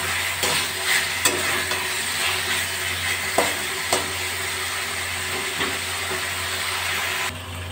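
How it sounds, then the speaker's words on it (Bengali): Spice paste for a potato and paneer curry fries and is stirred in a pan over a raised gas flame: a steady, loud sizzle with occasional scraping stirs throughout. "মাঝে মাঝে একটু নাড়াচাড়া করে দেব।"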